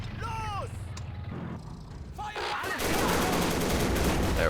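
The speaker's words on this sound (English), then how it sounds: "you can hear some custom weapon sounds" Custom weapon gunfire in the WWII strategy game Men of War: Assault Squad 2, with loud rapid bursts and overlapping shots building into a dense continuous barrage, accompanied by shouted voices early on.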